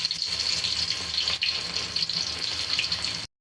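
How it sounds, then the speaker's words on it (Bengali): Onions frying in hot oil with garam masala in a cooking pot, for plain pulao: a steady, close sizzling hiss that runs evenly for the whole stretch, with no voices. "এখন পেঁয়াজগুলো বেরেস্তা করে ভেজে নিব"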